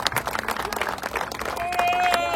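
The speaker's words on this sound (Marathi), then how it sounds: "जोरदार टाळ्या चतुरसाठी झाल्याच पाहिजेत." Crowd at a cricket tournament claps for batsman Chatur, a dense burst of applause and cheering that swells and holds toward the end, with a commentator's voice over it and a faint whistle-like tone.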